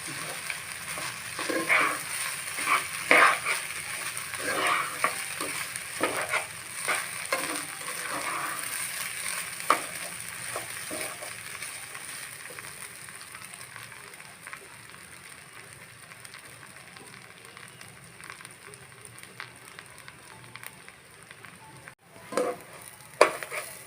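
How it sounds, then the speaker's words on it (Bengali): Chinigura rice frying and being stirred in a pan for tehari, a steady close sizzle with scraping stir strokes running throughout, fading somewhat toward the end. "চিনি গুঁড়ার চালটা আমি ভালোভাবে ভেজে নিয়েছি"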